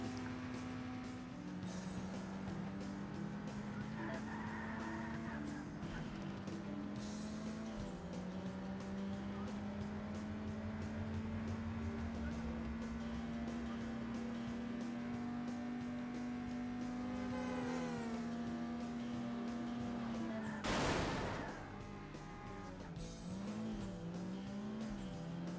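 Racing game played with a Logitech steering wheel: a steady engine drone rising and falling with gear changes, tire noise, and a sharp crash impact near the end before the engine picks up again.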